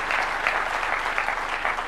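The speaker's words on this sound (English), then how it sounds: "Please, round of applause to this great lady" Audience clapping at Alliance High School's centenary celebration, a steady dense wash of applause from a large crowd, loud and continuous throughout.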